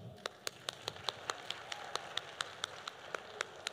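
Rhythmic, evenly spaced clapping at a tech startup talk, sharp claps in a steady beat with a few hands joining in a room, moderately loud and without voices.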